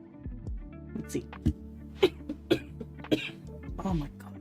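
A woman coughs repeatedly in short, close, harsh bursts spread over several seconds, mixed with throat clearing and breathy vocal sounds.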